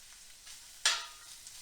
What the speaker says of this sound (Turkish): Yağlarımız eriyip içerisinde kıkırdaklar çıtır çıtır kalacak şekilde yağımızın erimesini sağlayacağız.